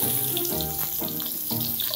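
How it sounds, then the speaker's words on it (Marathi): Whole spices, bay leaf, cloves, cinnamon and two dried red chillies sautéing in hot oil for a pulao tempering, a loud, close, continuous hiss with faint scraping, no voices. "छान आपली फोडणी मस्त आपण परतून घ्यायची आहे।"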